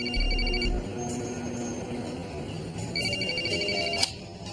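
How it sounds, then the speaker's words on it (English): A telephone rings with an incoming call in a TV drama: bright electronic trills in two separate bursts, one at the start and another near the end, over a low background hum. "I can't help him unless I answer this phone call"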